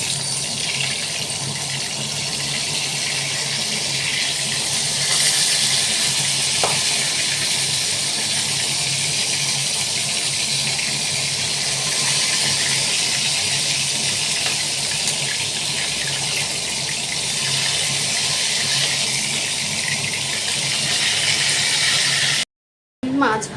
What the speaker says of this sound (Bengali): মাছগুলো একটু ওলট পালট করে লাল লাল করে ভেজে নিলাম